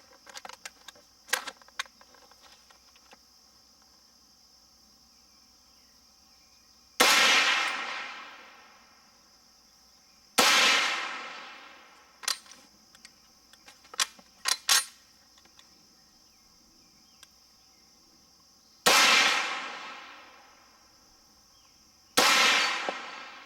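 Four loud, sharp gunshots from an Inland M1A1 paratrooper carbine firing Remington and MagTech ammunition outdoors, spaced several seconds apart, each with a decaying echo, amid faint clinks and a steady high background tone.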